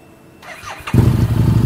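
A used Harley-Davidson Street motorcycle at a secondhand bike dealer is started up: a short whirring crank from the starter, then the engine catches at close range and settles into a loud, throbbing idle.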